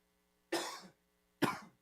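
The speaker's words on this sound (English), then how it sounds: "something about this time of day, I start coughing" Two separate dry coughs, close to the microphone, about a second apart in an otherwise quiet room.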